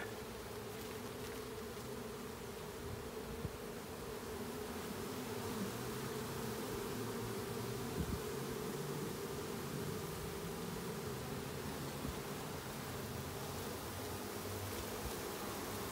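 A honey bee swarm buzzes in a bee yard on a homestead, a dense continuous hum of many bees filling the air steadily and loudly throughout.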